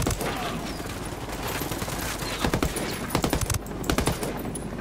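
Rapid minigun fire in the Ghost Recon Wildlands video game, a dense, loud stream of shots with sharp bursts over constant background battle noise.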